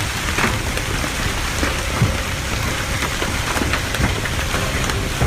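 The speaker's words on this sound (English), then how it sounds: "This hailstorm was no joke." Steady, dense patter of hail striking surfaces during a hailstorm, with sharper scattered impacts and a distant low rumble, continuous throughout with no voices.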